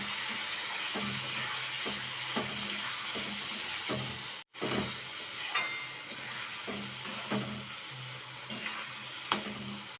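Hilsa fish curry with powdered spices and added water being stirred in a pot, a steady bubbling sizzle under regular soft scrapes of the spoon, with one brief cutoff partway through.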